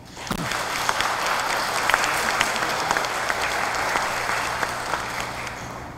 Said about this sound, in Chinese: 让我们大家拍手鼓掌